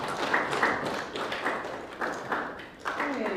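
Brief clapping from a university classroom audience runs steadily under a lecturer's voice, moderately loud with occasional sharper accents across a few seconds.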